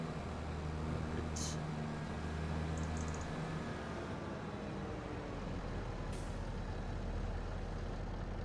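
A loaded truck in Farming Simulator 25 idles with a steady low engine drone, punctuated by two short hissing bursts of its air brakes.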